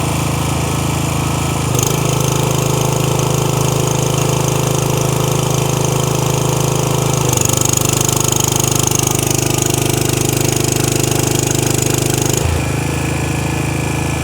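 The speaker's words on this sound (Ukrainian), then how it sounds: "Буквально декілька секунд генератор пропрацював і автомат відстрілив." A Rolwal petrol generator runs loud and steady under the load of two heating elements totalling about 3 kW, its engine drone shifting pitch twice as the load changes, with no talk.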